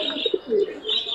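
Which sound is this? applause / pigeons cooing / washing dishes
pigeons cooing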